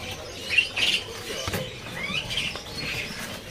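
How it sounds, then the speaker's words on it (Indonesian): A Javan black-naped oriole calls in a crowded bird shop, with short high chirps and tweets in a quick cluster near the start. Faint scattered calls follow over a low, busy background murmur. "Di sini juga ada di burung kepodang Jawanya ya."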